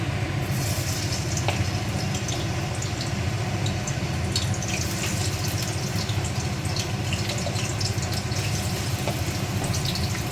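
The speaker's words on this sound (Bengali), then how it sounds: "এবারে আলুগুলো একটু ভেজে নিচ্ছি," Potato pieces frying in hot oil for a Bengali vegetarian curry, giving a steady, dense sizzle and crackle that runs unbroken throughout at moderate loudness, with no talking.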